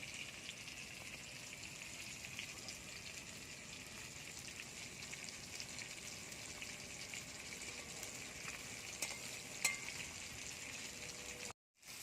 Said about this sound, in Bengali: অল্প আছে ধীরে ধীরে ভাজতে হবে যাতে না পেঁয়াজগুলো পুড়ে যায়